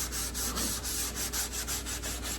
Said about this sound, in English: So I'm just gonna take a little rag with shellac on it